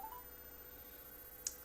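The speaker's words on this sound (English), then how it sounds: "let's see if we can get a hold of my Christian sister Sally first of all." A telephone is dialed to call a woman named Sally: one brief, faint dial tone, then a single small click a moment later against a quiet room hum.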